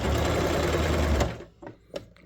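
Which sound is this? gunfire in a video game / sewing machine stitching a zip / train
sewing machine stitching a zip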